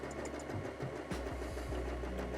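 A budget sewing machine straight-stitches slippy polyester at a stitch length of 3, a continuous close motor hum with a rapid, even needle rhythm.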